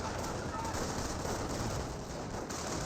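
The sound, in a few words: MG42 machine gun firing in the video game Company of Heroes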